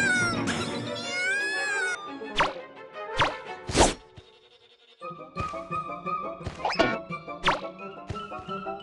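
Cartoon cat meows and yowls in the Tom and Jerry: Chase mobile game, several loud pitched cries mixed with thumps, whacks and playful game sound effects.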